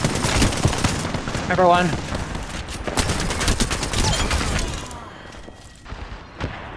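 Rapid bursts of gunfire in a multiplayer shooter video game, loud and repeated over several seconds, mixed with players talking and game sound effects.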